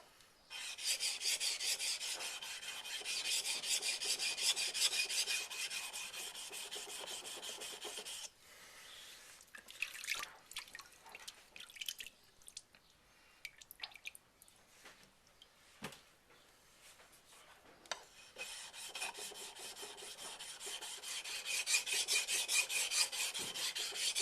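A knife is convex-sharpened on waterstones with rhythmic rasping strokes. Steady scraping runs at the start and end, and a quieter middle stretch has scattered rubs and light knocks.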